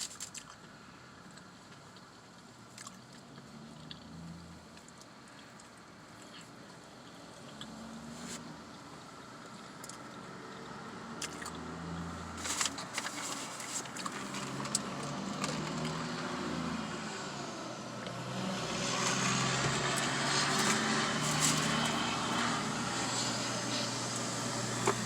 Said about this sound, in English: You hear a lot of cars and trucks